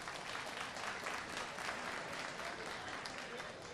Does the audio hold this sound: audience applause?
yes